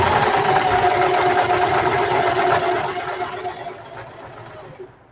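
A sewing machine runs a zigzag stitch through several fabric layers for a patchwork duffle bag, a close, steady mechanical whir that slows and stops near the end.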